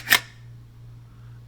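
A Foley effect of shotgun shells being loaded: one sharp, close mechanical click right at the start, then fading into a steady low hum.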